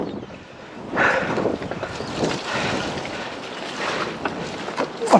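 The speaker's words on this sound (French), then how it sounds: "J'ai les yeux qui pleurent tellement il y a du vent." Strong wind buffets the microphone while mountain biking outdoors, a continuous loud rushing roar with gusting swells and no voices.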